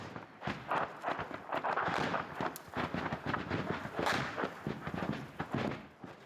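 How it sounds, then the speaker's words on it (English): Gunfire crackles close by during an attack near Bakhmut, a dense, continuous run of sharp bangs and pops layered over one another, with a louder blast standing out near the middle. "they are forced to take cover amid the sound of gunfire close by"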